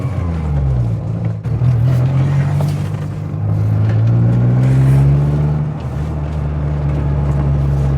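A Rover 100 small hatchback circles tightly at low speed, its engine droning steadily with a rising and falling note as it turns, close and continuous throughout with no talk.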